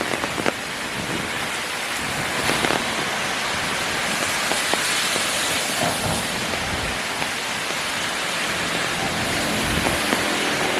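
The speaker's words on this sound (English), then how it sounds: "Braving the rain to walk back to Jeonggak Metro." Steady heavy rain on a Seoul street near Jonggak Station, a dense, continuous hiss of drops striking pavement and surfaces, close and constant throughout.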